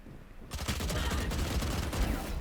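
Rapid automatic gunfire rings out in Valorant while a player jumps and shoots, a dense, loud burst that begins abruptly after a quiet moment and continues steadily to the end.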